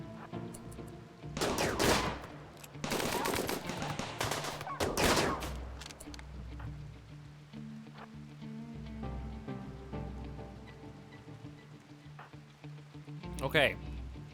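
Video game gunfire from a three-legged turret and raiders, several loud clusters of rapid shots early on, then quieter sporadic fire and one more sharp burst near the end, with a voice speaking over it.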